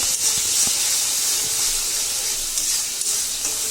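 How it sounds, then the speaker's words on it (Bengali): Spices with chili powder fry in hot oil while being stirred for a meat dish, a steady bright sizzle and hiss holding at an even level throughout, with faint scraping knocks of stirring underneath. "মশলাটা কষাবো।"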